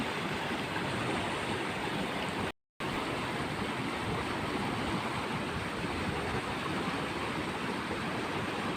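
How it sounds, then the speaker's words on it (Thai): Floodwater rushing over flooded rice fields in Lang Ka Yai, Nakhon Ratchasima, Thailand, a loud unbroken roar of surging water with one brief dropout partway through and no voices. "ตอนนี้น้ำล้นทะลักเยอะมากค่ะ"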